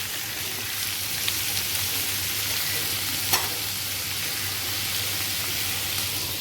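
Pumpkin and tomato frying with spices in a pan, a continuous even sizzle with occasional soft scrapes and clicks from stirring, close and steady.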